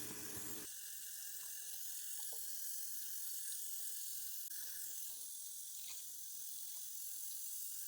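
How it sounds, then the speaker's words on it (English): Sink tap water runs steadily while makeup brushes are rinsed of soap and foundation, a soft, continuous hiss with faint splashes that stays even and close throughout. "The goal here is to rinse off as much of the soap as possible without the bristles losing their shape"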